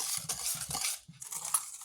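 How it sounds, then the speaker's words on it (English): A whisk clinks and scrapes against a bowl while milk is beaten into self-rising flour and sugar for a cherry cobbler batter, in quick close rhythmic strokes that pause briefly midway. "Pour it on top of the other two ingredients, which would be self-rising flour and sugar. Okay. And then you're going to whisk that up."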